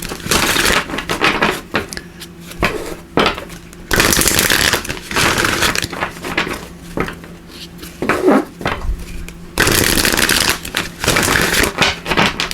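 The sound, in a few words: shuffling cards of the Power of Surrender deck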